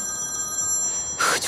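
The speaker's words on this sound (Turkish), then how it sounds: "Telefonu çalıyor." A mobile phone ringing outdoors on a cold night, a steady repeating electronic ring heard faintly, with a louder burst of voices or noise toward the end.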